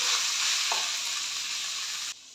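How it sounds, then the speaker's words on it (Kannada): Spices sizzle and fry in a pan while masala is being prepared, with a steady close crackle and a brief stir partway through, then a sudden drop in level at the end. "ಇದೊಂದು ನಿಮಿಷದವರೆಗೂ ಹೀಗೆ ಫ್ರೈ ಆಡಿ ಸ್ಟವ್ ಆಫ್ ಮಾಡಿದ್ರೆ"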